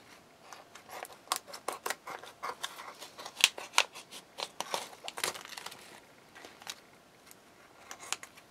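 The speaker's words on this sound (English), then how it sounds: "I think I want to slit the top" Scissors slitting the top of a paper shaker dashboard piece, a run of crisp snipping and crinkling cuts in an irregular rhythm, close and fairly quiet with no talk.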